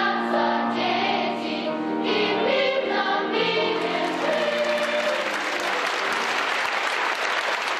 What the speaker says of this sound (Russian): Репертуар зал встретил на ура, буквально оглушив певцов аплодисментами.